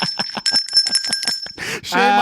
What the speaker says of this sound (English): Give them the shame bell.